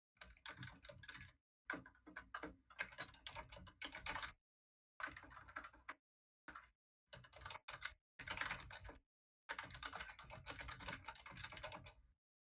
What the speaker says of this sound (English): That is quite the typewriter someone has.